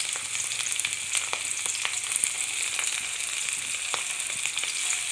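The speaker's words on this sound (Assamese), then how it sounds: "কাটি ৰখা পিঁয়াজখিনি এইদৰে লগতে দি দিলোঁ আৰু বিলাহীখিনিও লগতে দি দিলোঁ" Onion and tomato fry with cumin seeds in a pan, giving a steady, close sizzling hiss with scattered small pops and crackles throughout, and no voices.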